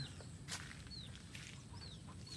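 Chickens cluck and cheep faintly at a distance over steady outdoor background noise, with a few thin high calls scattered through.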